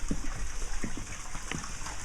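Water circulating from a pump at a dock to keep it from icing over, a steady gushing and trickling wash with small splashes, close and continuous, without any talk.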